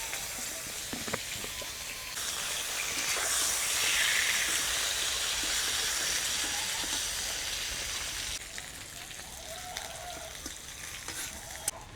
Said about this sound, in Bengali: ওই তেলে বেগুনগুলোও লাল করে ভেজে নেব।